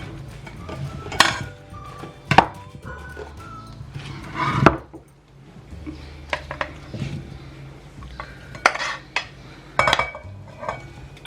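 Cut fruit for fruit chaat being tossed and stirred with chaat masala in a bowl, giving scattered clinks and knocks of utensil against dish, moderately close, with short gaps between the strokes.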